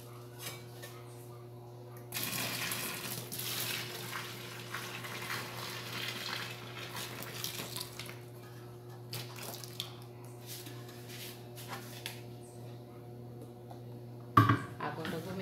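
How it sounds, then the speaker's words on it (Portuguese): A wooden stick stirs liquid laundry detergent into water, giving soft sloshing and swirling noise. It runs over a steady low hum, with brief knocks near the end. "a minha madeira assim, pra poder dissolver tudo isso aqui."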